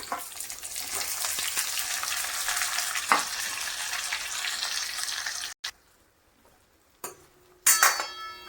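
Brinjal pieces drop into hot tempered oil in a kadhai for a spicy Solapuri brinjal curry, a steady loud sizzle and frying hiss with stirring scrapes, then cutting off into near quiet followed by a couple of utensil clinks.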